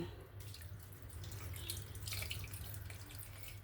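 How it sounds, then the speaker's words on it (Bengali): Water poured into wood apple pulp while making a sherbet, a soft steady trickling and splashing close by at low level with a faint hum underneath and no talking. "এবার এখানে আমি পরিমাণ মতন জল দেব।"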